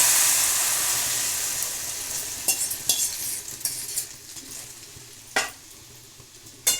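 Beaten egg masala omelette mixture poured into hot oil in a steel pan, a strong hiss that slowly fades while sharp scraping and stirring knocks punctuate it at irregular intervals, close up.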